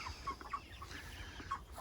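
A pen of about 500 broiler chickens in a roller pen, clucking in short, scattered calls, close by over low rustling farm background.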